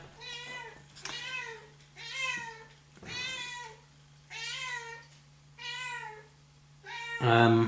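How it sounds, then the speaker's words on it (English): A cat meows repeatedly, six drawn-out, insistent cries in a steady rhythm, close and clear, with a low hum underneath. "I wonder if you can hear my cat there."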